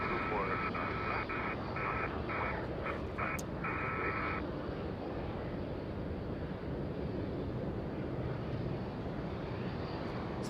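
SkyWest jet going around low overhead at Los Angeles International Airport, a steady broad engine roar filling the clip, with a brief electronic beeping tone near the start.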